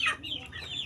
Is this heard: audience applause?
no